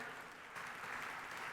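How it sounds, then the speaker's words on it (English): Faint, distant applause rises from a conference audience at an opening session, a short soft patter of many hands that swells slightly partway through. "can I get a big round of applause for Excellency Fahd Al-Jalajin?"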